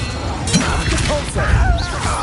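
Spell blasts in the Hogwarts Legacy video game during a goblin fight, a rapid run of loud whooshing, crackling bursts and impacts, close and dense, with a voice shouting over them.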